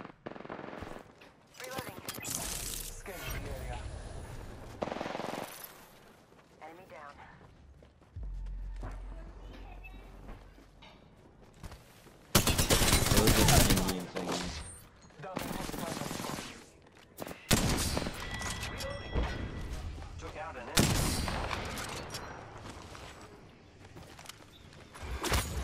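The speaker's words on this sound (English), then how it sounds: "He's getting shot at?" Gunfire in the Apex Legends video game, repeated automatic bursts and single shots in a busy firefight, loud throughout with players talking over it.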